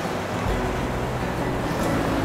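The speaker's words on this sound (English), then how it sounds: "The tide's coming up and it's getting a little dangerous, so I'm gonna head back." Ocean surf on a southern Oregon beach at Myers Creek with an incoming tide, a steady, loud broadband roar of waves washing in close by with no clear breaks and no voices.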